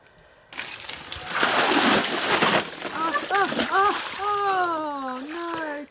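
Mountain bike wheels with spiked tyres churn through water, a loud sustained splashing and sloshing that dominates the clip, then gives way to excited voices talking and exclaiming.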